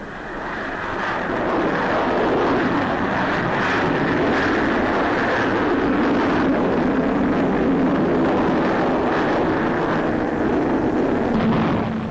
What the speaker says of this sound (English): Here is the Havilland DH.110.